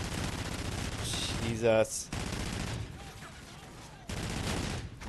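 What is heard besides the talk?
gunfire in video game Call of Duty: Ghosts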